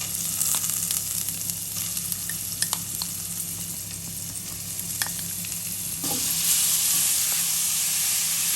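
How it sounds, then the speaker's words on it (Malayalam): Watermelon rind thoran mixture sizzles and fries in a hot pan with curry leaves, a steady close hiss with occasional stirring clicks that grows louder and brighter toward the end. "നമുക്കിനി നമ്മുടെ തോരൻ്റെ മിക്സർ ഇതിലേക്ക് ആഡ് ചെയ്ത് കൊടുക്കാം"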